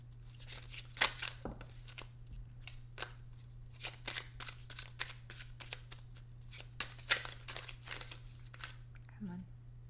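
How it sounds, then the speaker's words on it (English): Tarot cards are shuffled in quick, papery riffles and soft slaps, close and fairly quiet over a low steady hum, with a person speaking quietly at times. "Let me do one more shuffle."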